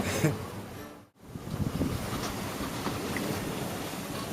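Choppy, rolling ocean waves rush against a sailing yacht under double-reefed main and staysail, mid-passage from Hawaii to San Francisco, with heavy wind buffeting the microphone and a brief dropout in the middle.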